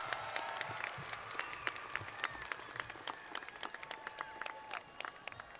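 Crowd at a Tift County High School graduation ceremony giving the graduates a round of applause, scattered, uneven clapping from many hands at a distance, with faint voices in the background.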